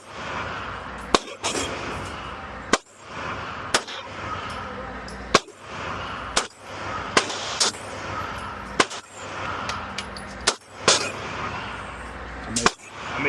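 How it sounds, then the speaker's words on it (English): Single shots from an Alpha Foxtrot Romulus pistol on an outdoor range, about a dozen sharp cracks spaced a second or so apart, each followed by a short ring-out. "I'm about to shoot the Romulus"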